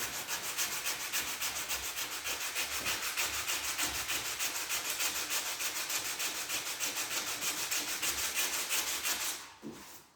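Steady back-and-forth hand sanding strips old lacquer from a Huon pine sailboat hull, the rhythmic scraping strokes close and continuous for about nine seconds before stopping abruptly.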